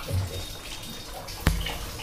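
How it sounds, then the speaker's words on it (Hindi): A washing machine about four to five years old, set to its extra-low water level, fills with water. It makes a faint, steady wash of flowing water over two seconds, broken by one sharp click or knock near the end. "अब मैं एक्स्ट्रा लो पे लगा दिया हूँ पानी लेने के लिए"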